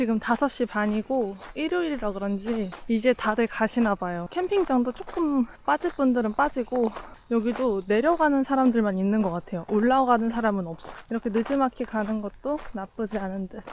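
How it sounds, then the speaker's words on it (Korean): Cicadas chirr steadily in the background on a summer evening at a valley campsite, faint beneath a person talking almost continuously throughout. "매미 소리 들리고"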